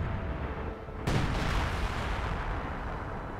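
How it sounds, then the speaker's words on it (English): A heavy British base artillery gun booms in Company of Heroes 2 with a sudden wideband blast, then a long rumbling decay over steady battlefield noise. No voices are heard. "The British artillery at their base just is not that good."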